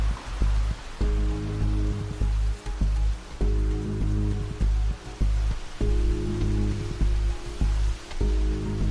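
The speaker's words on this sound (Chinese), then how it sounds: "这么大雨" Heavy typhoon rain pours steadily and loud throughout, a dense hiss of drops on surfaces, with repeated low tonal hum bursts underneath.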